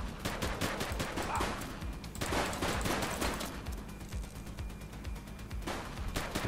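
Gunfire in the police game The Precinct: rapid bursts of repeated shots, loud and close, in several volleys across the stretch with brief gaps between them.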